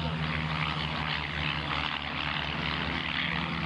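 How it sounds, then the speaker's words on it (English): Four RV-8 light propeller airplanes flying in formation at a 2005 airshow, giving a steady, loud engine drone with a low propeller hum that holds evenly throughout. "Friday's first four aircraft are RV-8 airplanes."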